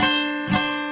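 An acoustic guitar that is out of tune strummed twice, each chord ringing with sustained harmonics and decaying, close and moderately loud with no talk.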